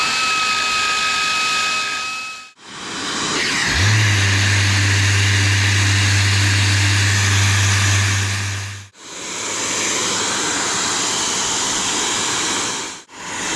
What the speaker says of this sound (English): I'm just going to use a belt sander and cheat a little bit and make this a bit quicker.